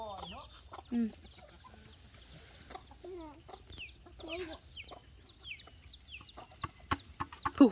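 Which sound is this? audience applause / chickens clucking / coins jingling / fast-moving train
chickens clucking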